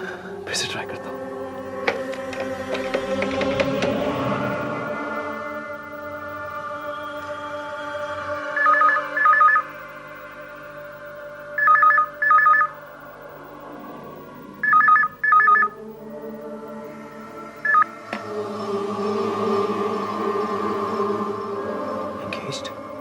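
A telephone call is dialed and rings in a TV drama scene, with short bursts of dialing tones followed by repeated paired ring pulses at a steady rhythm, while someone speaks softly, almost whispering, before and after.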